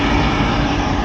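Fans on a Carrier rooftop HVAC unit from about 1998 run with a loud, steady, broadband whoosh and hum, close up and unbroken, no voices over it.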